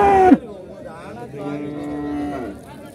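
Cattle at a cattle market selling HF and Jersey heifers moo loudly and close by: one short low call at the start, then a longer drawn-out moo, over faint background noise.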